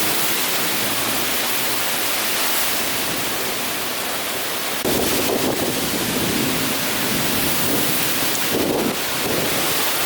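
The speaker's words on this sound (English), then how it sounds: "Yeah, heavy rain." Heavy rain pours steadily in a small Wisconsin town during a thunderstorm, a loud, dense hiss that stays constant, with a rumbling surge of thunder partway through and another brief burst near the end.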